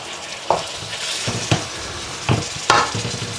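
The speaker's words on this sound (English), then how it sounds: "we're just going to put a little bit of a sear on this beef" Beef searing in a hot pan for a stir fry, a continuous sizzle broken by a few sharp bursts as the meat is tossed or stirred, loud and close with no talking.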